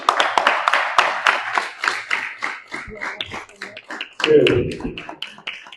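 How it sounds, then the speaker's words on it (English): Audience claps for an ambassador at a political discussion event, a run of sharp, distinct claps that thin out over a few seconds, mixed with talking and a brief loud voice near the end. "Give him a big round of applause, please"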